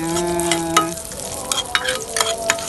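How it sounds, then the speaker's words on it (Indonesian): Onions sautéing in a pan at a cooking class, a soft sizzle under a few crisp scrapes and taps of a spatula, close and short, with no talking. "Nah, ini kita tumis sampai harum, tapi jangan terlalu gosong ya."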